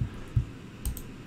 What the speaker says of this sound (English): grab these loops right here by hitting Alt and then clicking like this